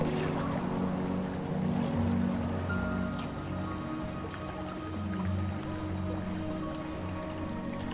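Steady wash of sea water around a ship at sea, a continuous, even roar with a low engine-like hum beneath, constant in loudness and without voices.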